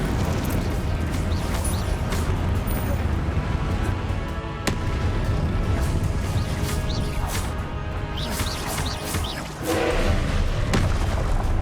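Repeated Confringo explosive spell blasts in the video game Hogwarts Legacy, a steady stream of booming, crashing impacts and fiery bursts layered over continuous loud game action with no pause.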